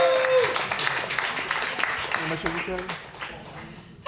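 An audience at a Tous en Scène stage show at the Spotlight in Lille claps, the applause mixed with voices and crowd noise, fading somewhat toward the end before a sudden loud burst at the close.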